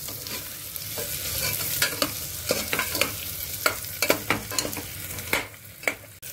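Onions sauté in a pan under an even sizzle, punctuated by a run of sharp, close spatula scrapes and taps against the pan.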